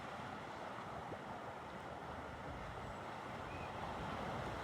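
Water released from beneath a boat lock rushing out in a steady, broad roar, continuous and fairly distant, with low rumbling and no voices.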